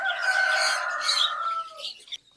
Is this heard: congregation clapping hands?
no